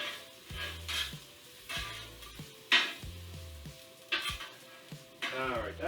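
Onions frying in a little oil, close crackling sizzle with repeated stirring scrapes and clinks of a utensil against the pan in an uneven rhythm, no talking.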